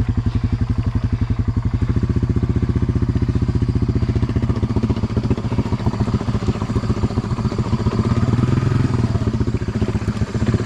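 A Honda 300 Fourtrax ATV stuck in a rut, its engine chugging loudly and steadily close by, revving up toward the end as it strains to pull free.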